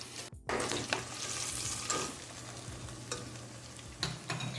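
Spices, smoked paprika and a bay leaf sizzle steadily in hot oil in a pan, a constant close crackling hiss broken by a few scraping stirs, with no voices.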